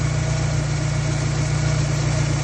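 A car engine idles steadily and loudly up close, a continuous low rumble with no break, during a MAP sensor diagnosis with the gears out of the transmission.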